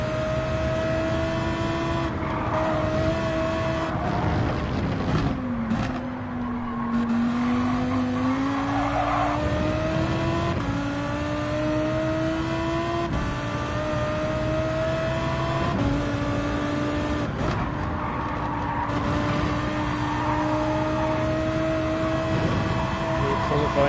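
A Porsche GT3 race car engine in Gran Turismo 7 on the seaside Dragon Trail track drones loudly and steadily, rising and falling in pitch through gear changes for the whole stretch, with a voice talking now and then.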